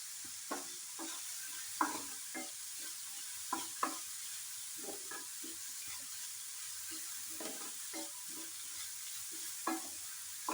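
Curry leaves frying in a pan while a spoon stirs them, with beef cutlet filling cooking; a steady soft sizzle runs throughout, punctuated by irregular scraping clinks of the spoon against the pan, close and moderately quiet, with no talking.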